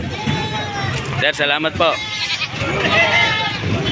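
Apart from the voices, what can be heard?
goats bleating at livestock market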